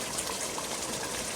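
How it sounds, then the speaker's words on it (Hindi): Water poured from a cup into a biryani pot during cooking, a steady close gushing and splashing pour running throughout without a break. "थोड़ा सा 1 कप पानी डाल के"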